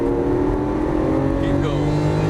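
A Lamborghini Aventador LP700-4 accelerates on a track in Vegas, its engine roaring loud and steady in a continuous close drone, with a voice speaking over it.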